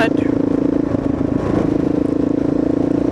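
A Kawasaki KLR motorcycle engine runs steadily nearby, a loud, even, throbbing idle with a slight rhythmic pulse and a brief rattle at the start.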